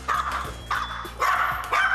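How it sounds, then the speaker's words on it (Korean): A pet dog at home barks repeatedly, four sharp, fairly loud barks in quick succession, close by. "너가 짖는 거였어?"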